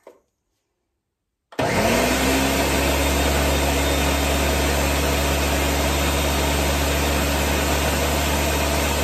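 A kitchen mixer, standing in for a food processor, starts abruptly after a brief quiet moment and runs loud and steady, blending dough for pill pocket dog treats with a constant motor whir.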